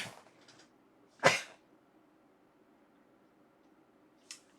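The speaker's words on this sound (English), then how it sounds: "I might sneeze, bear with me." A single sharp sneeze bursts out in a quiet room, followed moments later by a faint short sniff or breath.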